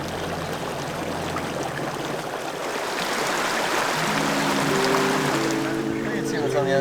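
Creek water rushing steadily beside a bikepacking camp in the Canadian Rockies, a loud, continuous broadband wash that swells slightly midway, with a faint low hum entering toward the end.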